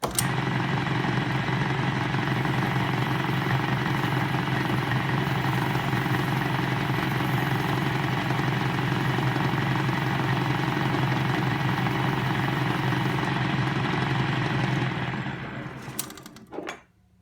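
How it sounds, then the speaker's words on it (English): A lathe runs steadily while an aluminum locking lever from an Atlas 73 drill press is sanded inside with sandpaper on a pen, giving a constant close motor hum that winds down and stops near the end. "I'm over at my lathe now, and I'm not going to do any machining here, but I'm going to try to clean the inside of these up a little bit."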